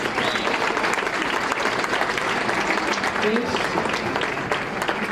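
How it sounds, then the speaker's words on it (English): An audience applauds at the close of a keynote speech on Common Core in Idaho Falls, a sustained even wash of many clapping hands with no voices, holding steady at moderate level throughout. "One more big round of applause."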